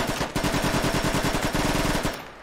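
Rapid bursts of automatic gunfire in the military shooter game Squad Ops, loud and close, sharp repeated cracks in a fast rhythm for about two seconds before cutting off.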